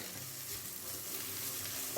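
Steady hiss and sizzle of chopped chard frying in a pot, with soft scraping of stirring underneath, continuous and close.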